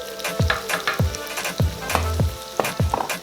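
Cinnamon sugar donut dough frying in shallow oil, a continuous close sizzle and crackle punctuated by a regular series of soft splashy plops as the pieces are moved or stirred in the pan.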